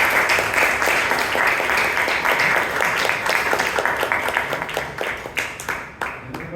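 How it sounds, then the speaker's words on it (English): Applause at a Toastmasters club meeting in Bangalore for Toastmaster Richard: a full, steady crowd clapping that gradually thins into a few scattered individual claps as it fades. "Round of applause, please, for Toastmaster Richard."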